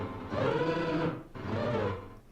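Piano resynthesis imitating a sung or spoken word "world", played back twice as two sustained, buzzy, harmonically dense tones, each about a second long, close and moderately loud with a short gap between them.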